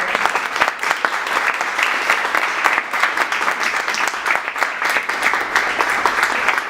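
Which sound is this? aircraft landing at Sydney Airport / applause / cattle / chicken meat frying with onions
applause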